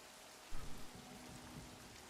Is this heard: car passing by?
no